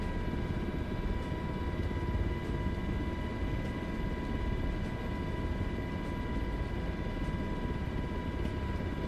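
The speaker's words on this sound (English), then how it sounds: "Another helicopter flying around." MH-60 helicopter flying in the ORBX Jurassic World flight simulator game, a steady droning engine and rotor hum with tonal whine, continuous and even in level with no talk.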